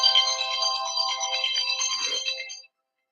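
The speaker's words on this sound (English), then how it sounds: "Oh, my phone is ringing." A mobile phone ringtone plays a bright, repeating electronic melody close by for about two and a half seconds, then cuts off abruptly into silence.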